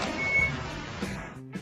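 A black pickup truck reverses hard in a parking spot, with a high, thin reversing beep over a rumbling engine and road noise, ending in a short burst of broader noise.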